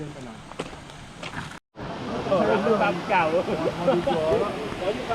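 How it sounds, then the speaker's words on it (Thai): A steady rushing roar comes from the Air Sirdor waterfall, heard from a viewing point. It runs continuously and drops out briefly, while people talk loudly over it. "ตอนนี้เราก็ถึง จุด ชมวิวน้ำตกไปที่เรียบร้อยครับ"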